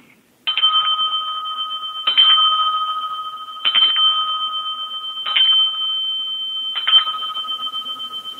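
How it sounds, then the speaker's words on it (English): A handheld bell dinged five times at steady intervals, each strike a bright ringing tone that sustains and slowly fades before the next, loud and close with no talking. "I'm going to have to ding my bell."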